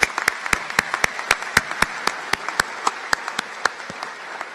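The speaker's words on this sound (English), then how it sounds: "round of applause" Graduation ceremony audience gives a round of applause for the officials, a moderate crowd's even, rhythmic clapping that continues steadily and tapers slightly.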